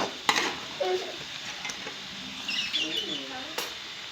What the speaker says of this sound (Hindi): इसको मिक्स करें। कलर आना चाहिए आपका आलूओं में।